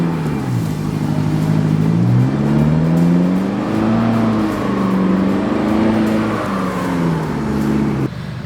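A 4WD engine works hard off-road at Pine Creek near Bundaberg with the throttle held down, a loud, close, sustained growl whose pitch rises and falls as the revs swing, then drops suddenly at the end.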